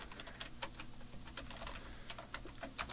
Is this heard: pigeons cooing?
no